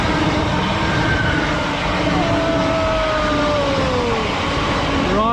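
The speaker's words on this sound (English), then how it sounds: "And here comes the train." A train passes alongside a canal on a walking route between Birmingham and Worcester, a steady rolling rumble with a rising and falling horn-like tone sustained throughout, fairly loud and close.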